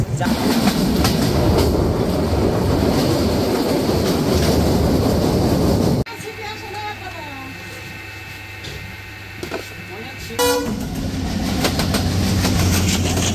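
Sundarban Express intercity train from Dhaka to Khulna rolls steadily on the rails with a loud continuous rumble. A quieter, muffled stretch follows with faint tonal hum, then the full rolling noise returns.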